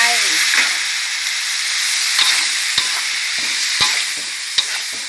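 Squid stir-fried with curry paste, kaffir lime leaves and sweet peppers sizzles loudly in a hot pan, with repeated scraping clacks of a spatula against the metal.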